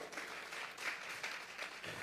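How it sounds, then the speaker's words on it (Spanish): Applause from a church congregation during a sermon, steady dense clapping that stays fairly faint and even for the whole stretch, with no voices over it. "Regálele otra ofrenda de palmas al Dios de la gloria"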